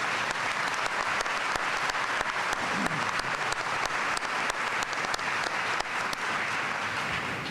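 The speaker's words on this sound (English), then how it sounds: "Please join me in an applause for thanking them for their service." An audience at a college commencement ceremony gives steady, dense applause that holds at an even level from start to finish, with no talking over it.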